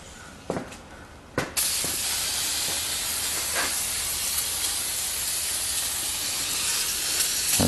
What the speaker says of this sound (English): So I'm just going to clean off those emergency or parking brake mechanisms. With some brake cleaner.